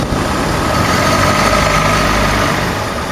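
A car engine being revved with a whistling, bell-like ringing fault inside it, a loud steady engine roar with a thin high tone running through it throughout.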